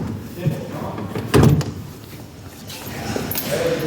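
A door fitted with an alarm system bangs shut with one loud thud partway through, set against a shop's background murmur and occasional voices.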